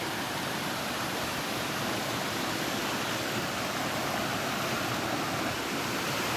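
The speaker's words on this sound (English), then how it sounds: "It's a lot like the last portage, rushing water in between rocks." River water rushes between rocks at a portage on Blind River, a loud, steady, broadband roar that continues without a break and with no voices.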